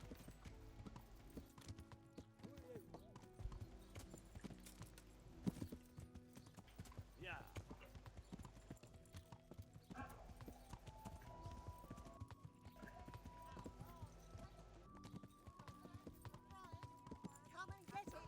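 Hooves clip-clop in a steady trotting rhythm over a busy game soundscape of music and ambient noise, at a low level, in Kingdom Come: Deliverance.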